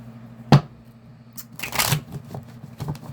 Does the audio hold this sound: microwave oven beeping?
no